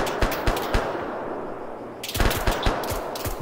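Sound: M4 rifle gunfire

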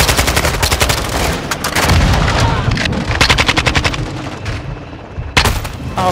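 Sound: gunfire in video game Call of Duty Modern Warfare II

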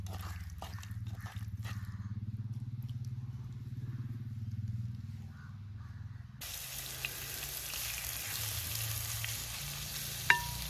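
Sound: prawns frying in sunflower oil outdoors

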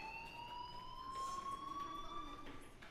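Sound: fire alarm in video game Life is Strange

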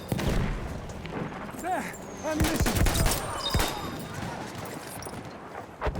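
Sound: gunfire in Battlefield 1 video game

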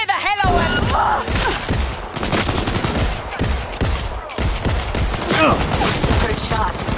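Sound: gunfire in the video game Cyberpunk 2077

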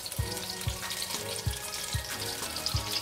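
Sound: frying chicken and vegetable shashlik skewers in oil

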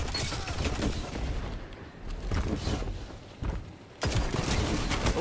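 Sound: gunfire in Destiny 2 video game

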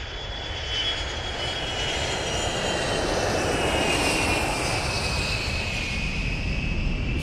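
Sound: airplane flying past, from the video game Train Simulator Classic

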